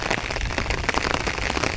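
Heavy rain pours down on farmland, a dense, steady hiss of drops striking the surfaces close by with no voices.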